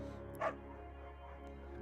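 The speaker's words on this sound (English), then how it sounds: "Now we're getting the beagle named Bucket." The beagle Bucket in the video game Firewatch gives a single short bark over a steady low background hum, then the scene stays quiet.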